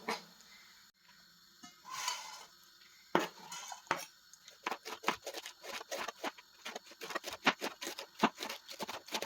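Cabbage is cut with a knife into thin strips for stuffed marinated peppers, giving a quick, steady run of close, crisp knife strikes on a board that grows denser in the second half.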